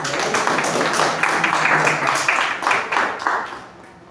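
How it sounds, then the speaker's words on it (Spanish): Congregation applauding during an evening church service, a steady wash of many hands clapping at moderate loudness that thins out and fades toward the end. "Un aplauso para bajar los nervios, por favor"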